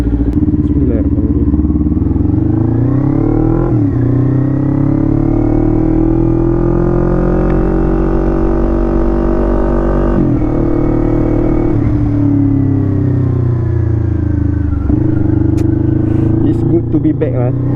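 A motorcycle engine drones steadily while riding, its pitch rising and dropping with gear changes, loud and close, with a voice talking over it.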